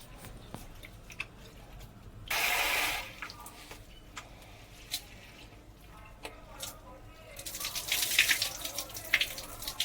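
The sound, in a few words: washing rice and moong dal with water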